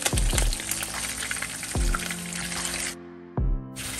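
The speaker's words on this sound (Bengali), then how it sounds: "তেল ভালো মতো গরম হয়ে যাওয়ার পরে নুন হলুদ মাখানো মাছের পিসগুলোকে গরম তেলের মধ্যে ছেড়ে দিচ্ছি" Salt-and-turmeric-coated rui fish pieces sizzle loudly in hot oil in a wok, a steady close crackling hiss broken by a few sharp clunks as pieces are dropped in.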